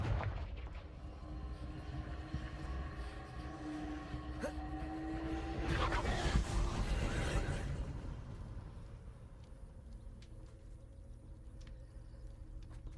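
A Confringo blasting spell goes off in Hogwarts Legacy as a deep rumbling explosion that swells around the middle and fades slowly over a continuous low game ambience.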